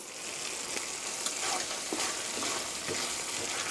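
Salted mapo tofu sauce is gently stir-fried in a pan, a low steady sizzle with light, intermittent scrapes of the spatula, close and fairly quiet.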